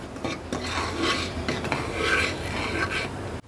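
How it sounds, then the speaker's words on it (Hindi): A spoon stirring mango custard in a pot as it cools, producing continuous close scraping and swishing strokes in a steady rhythm, alone without speech. "इसको आपने थोड़ा ठंडा करना आप रूम टेम्परेचर पर, और इसमें मुसलसल आपने 7 चम्मच हिलाते रहना है"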